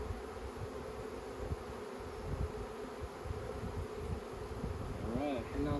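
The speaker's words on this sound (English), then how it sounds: "I got some bees trying to attend to the queen" Honeybees buzzing around the queen while a hive is installed, a continuous close droning hum with individual bees whirring past, faint voices underneath.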